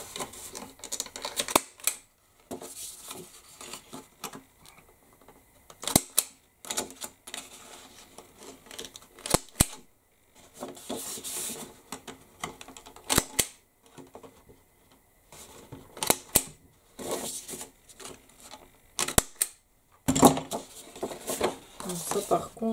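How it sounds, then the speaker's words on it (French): Scissors cutting paper for a craft project, a series of short snipping bursts separated by pauses, fairly close and clear, with no one talking over them. "Je vais découper."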